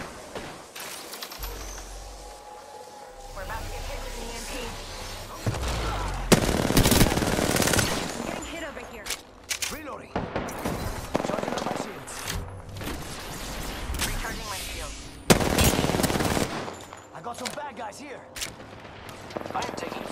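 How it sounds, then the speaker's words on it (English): Rapid automatic gunfire from an R-99 and heavy Kraber sniper shots in an Apex Legends match, loud repeated bursts with sharp cracks and booms, mixed with game effects and intermittent voice callouts. "I am taking fire, friends."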